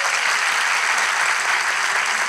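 Steady, dense applause from a crowd, continuous clapping at even loudness for a couple of seconds with no voices over it.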